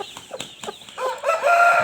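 Hen clucking on a family farm, a few soft clucks that build into a louder, drawn-out brooding call at close range with no one talking.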